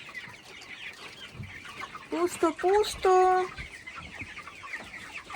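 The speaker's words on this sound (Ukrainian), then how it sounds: "Тут в мене залишилися півні." Roosters in a shed cluck and squawk in a short burst of calls close by, with a voice speaking briefly over the background noise.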